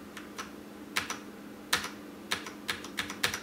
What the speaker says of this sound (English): The only click you hear is the key bottoming out.